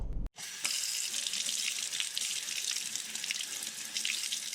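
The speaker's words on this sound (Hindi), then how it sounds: "फिर अचानक बाथरूम का नल खुद से चालू हो गया।" A bathroom water tap turns on suddenly after a brief silence, then runs in a loud, steady, hissing gush that continues to the end.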